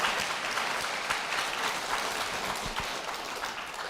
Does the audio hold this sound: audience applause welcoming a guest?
yes